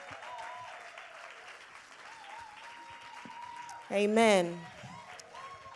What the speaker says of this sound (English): Please keep your hands clapping.